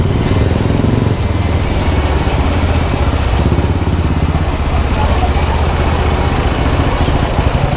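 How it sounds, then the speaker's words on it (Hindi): Busy street traffic in Aizawl city, with motorcycle and car engines rumbling and idling nearby in a loud, continuous wash of road noise while a person talks over it. "देखो ना कितना ऐसा ट्रैफिक बिजी होता है, इतना ट्रैफिक है"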